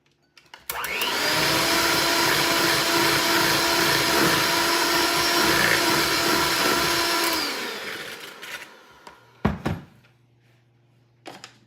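An electric mixer beats vanilla into oatmeal raisin cookie dough: a loud, steady motor whir runs for about seven seconds, winds down, and is followed by a couple of sharp knocks.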